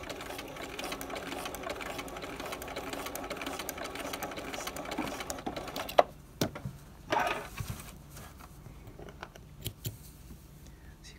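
Sewing machine stitching piping around a corner of fabric, a steady whirring run that stops, followed by a few short bursts and clicks as the stitching is restarted.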